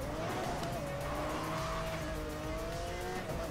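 Lamborghini Aventador racing in Need for Speed: Most Wanted, engine droning steadily at high revs with tire squeal and road noise, loud and continuous throughout.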